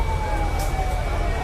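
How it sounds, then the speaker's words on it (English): A small ambulance on a street in Pakistan sounds its siren with a steady rising and falling wail, fairly loud and continuous over low traffic rumble. "Cutest little ambulance ever."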